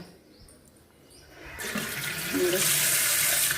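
Water gushes from a tap while dishes are washed, starting quietly then swelling into a loud, steady close rush of running water.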